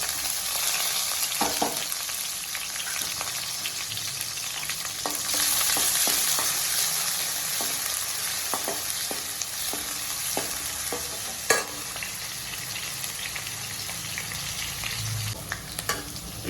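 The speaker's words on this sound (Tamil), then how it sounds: "வெங்காயம், கருவேப்பிலை நல்லா வதக்கும்." Onion and curry leaves sauté in hot oil in a pan, a constant close sizzle broken by scattered clicks and scrapes of stirring, with no voices.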